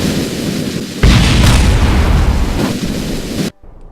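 A missile detonates against a spacecraft hull in Kerbal Space Program, a loud sustained rumbling blast lasting a few seconds before cutting abruptly to near silence.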